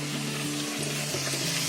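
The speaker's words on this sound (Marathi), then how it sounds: "आता आपण तेलामध्ये पुरी सोडूया." Four rolled puris for kurma puri fry in hot oil, making a close, bubbling sizzle with a low steady hum underneath and no talking.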